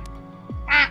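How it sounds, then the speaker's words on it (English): A cartoonish duck quack sound effect plays once, loud and close, from a kids' coding tutorial, preceded by a short low sweep and a faint click. "Duck sound."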